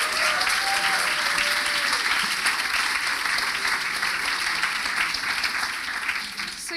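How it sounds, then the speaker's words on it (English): An audience at a 2019 design conference applauds to welcome a speaker on stage, a dense, sustained round of clapping that holds steady and starts to thin toward the end. "So clap your hands for Amy."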